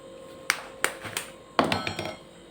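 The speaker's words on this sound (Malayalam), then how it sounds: "പൊട്ടിക്ക് ഒഴിച്ച മുട്ട ഒഴിക്കുകയാണ്" Eggs for an omelette crack against a hard edge in a kitchen: a few sharp, close taps, the last followed by a wet splatter as the contents drop into a bowl.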